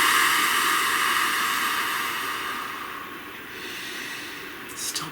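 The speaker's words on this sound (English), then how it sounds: "Please take a nice deep breath." A slow, deep breath drawn in and let out, a long soft airy rush that gradually fades, close and alone with no talking.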